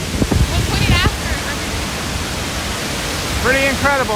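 Dynjandi waterfall in Iceland's Westfjords roars as a steady, loud broadband rush throughout, with people talking over it at the start and end.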